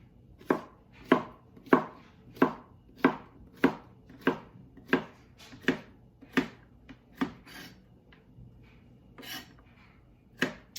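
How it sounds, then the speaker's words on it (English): Zucchini being chopped on a board while making paella: about fifteen crisp knife strikes in a steady rhythm, close and clear, slowing and thinning toward the end with one last chop. "I've got my zucchini chopped. That's about 1 cup."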